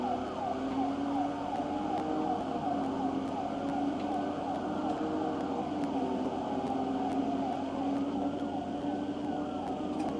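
A police siren wailing steadily in a driving video game as a BMW flees the cops, a continuous cycling tone held at a constant level with no talk over it.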